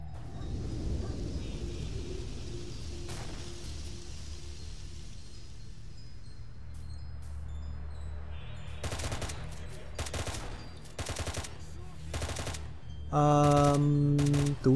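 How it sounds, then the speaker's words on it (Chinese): Gunfire from the game S.T.A.L.K.E.R.: Shadow of Chernobyl, with bursts of sharp rapid shots arriving in clusters over a low ambient rumble, followed by a loud steady alarm-like tone near the end. "哦，那声枪声听起来非常非常，"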